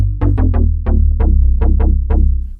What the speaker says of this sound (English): So this is like a bass sound